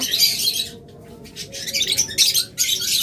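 Green-cheek conure parrots call in shrill, raspy bursts, several loud overlapping squawks spaced across a few seconds with brief gaps, close by and without talk.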